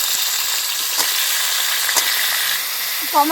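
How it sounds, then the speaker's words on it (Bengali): Mustard seeds and chilies fry in hot oil as a tempering for chutney, giving a steady, loud, close sizzle with a few faint pops and a short voice near the end. "আমি চাটনির জন্য দিয়ে দিলাম সর্ষে ফোড়ন লঙ্কা ফোড়ন"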